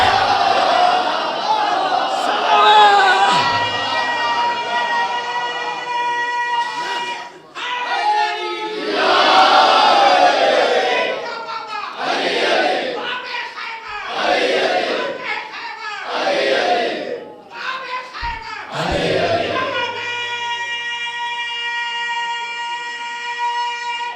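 Crowd at a Shia majlis chanting the slogan of Ali, loud massed voices rising in repeated bursts with short pauses between, and a leader's voice calling between the chants.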